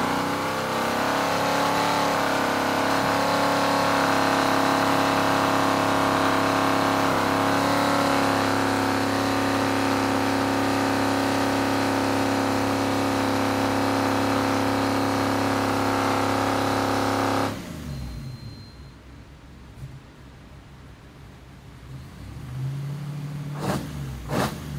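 A Nissan Skyline Hakosuka fitted with a VK56 engine running on a dyno: a loud, steady high-rev drone held for about seventeen seconds, then a sudden drop to a lower, rougher rumble.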